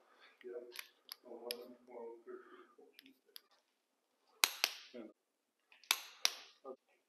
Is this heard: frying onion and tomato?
no